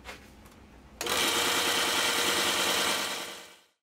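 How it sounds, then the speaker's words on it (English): A DIY plastic shredder, a half-horsepower motor turning a worm drive, starts abruptly after a quieter second, then runs at a loud steady whine with a rapid rhythmic chatter before winding down near the end. "a half-horsepower motor seemed to have no trouble with the plastic I was putting through it"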